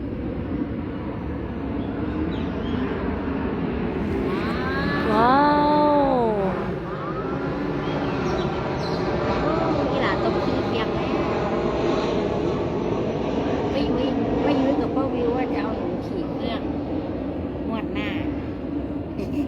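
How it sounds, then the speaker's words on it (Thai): An airplane passes overhead, a steady broad engine roar that swells slightly mid-clip and persists throughout, while a voice and some calls are heard over it. "เครื่องบินม่อีกแล้ว"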